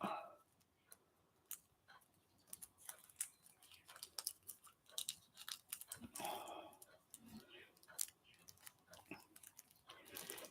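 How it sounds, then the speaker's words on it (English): Scissors snip roughly through two layers of fabric in a series of close, quiet, irregular cuts, with brief pauses between snips. "So I'm just going to roughly cut this out."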